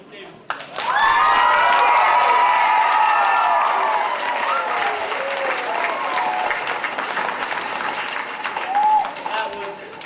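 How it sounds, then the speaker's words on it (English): A school assembly audience of fourth graders and families bursts into applause, loud and sustained, with cheering and excited children's shouts and voices riding over the clapping before it gradually eases. "let's give a big round of applause for Ms. Davis."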